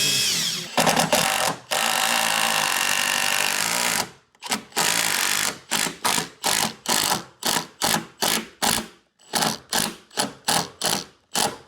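A power driver sinks a screw into a garden room door frame, first in one long loud whir, then in a rapid string of short, evenly spaced bursts.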